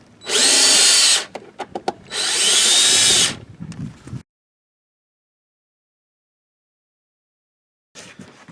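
Power drill backing out screws from an RV water heater unit: two close, loud whirring bursts about a second each with brief clicks between them, then silence and a faint final rattle.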